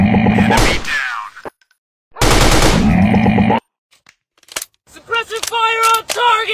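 Two loud, separate bursts of machine gun fire in the Android game Commando Run, each about a second long, with near silence between them, then a soldier's voice shouting.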